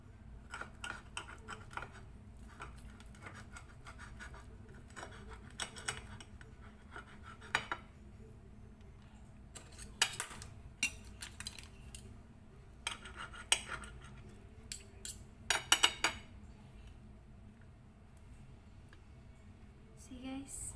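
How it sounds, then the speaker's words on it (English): A kitchen knife saws through homemade pizza on a plate, producing faint, irregular clicks and scrapes of metal against the dish spread across a quiet indoor room with low background hum. "I don't have a pizza cutter, guys, so I'm just using this"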